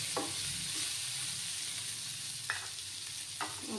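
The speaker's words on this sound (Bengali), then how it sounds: "ভালো করে নাড়াচাড়া করে নিচ্ছি আমি।" Tomato chutney with a pinch of turmeric being stirred in a pan, with a steady soft sizzle and a few distinct scraping strokes of the spoon against the pan at intervals.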